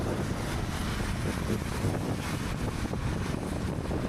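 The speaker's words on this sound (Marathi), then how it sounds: "पाऊस पडतोय खूप." Heavy monsoon rain pours down in Sindhudurg, making a dense, steady roaring wash that stays loud and even throughout, with no voices.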